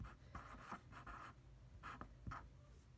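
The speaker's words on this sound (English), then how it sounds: "So we're going to write in height." Marker or chalk writing on a board during a geometry lesson on trapezoids: a series of short, close scratchy strokes in uneven bursts, quiet and alone.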